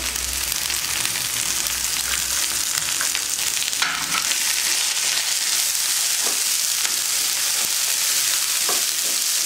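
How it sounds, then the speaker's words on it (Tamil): Mint leaves sauté in oil with onion, garlic, dried red chillies and coconut for a mint tomato chutney, a loud, close, steady sizzle with intermittent stirring scrapes. "புதினாவை லைட்டாக வதக்கியாச்சு."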